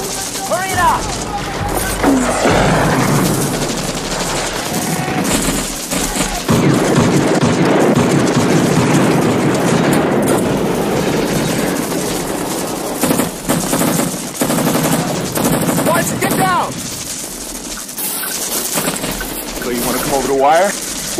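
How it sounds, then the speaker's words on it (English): Heavy machine gun fire and rifle shots crackle nonstop at a war-film firefight, dense and loud throughout, with shouted voices buried in the din. "We're under heavy fire here."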